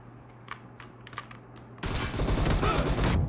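Sustained burst of gunfire from a PUBG team deathmatch match starts partway in and holds loud to the end, following quieter clicks and scattered light taps.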